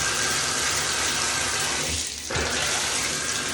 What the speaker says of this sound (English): I'm gonna go turn the water on and fill this thing up